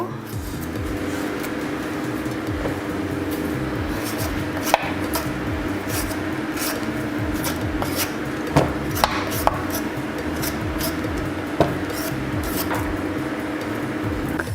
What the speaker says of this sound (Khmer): ឥឡូវខ្ញុំធ្វើការចិតត្រាវ